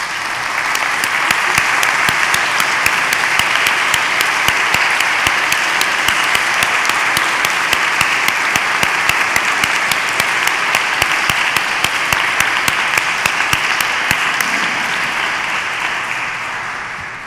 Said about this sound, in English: Would you please stand so we can give you a round of applause for last week?